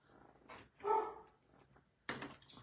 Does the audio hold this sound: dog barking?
yes